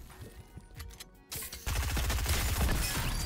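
Shotgun fire in an online shooter video game, with a few sharp shots early over game noise, then a louder dense burst of rapid gunfire and impacts filling the final half.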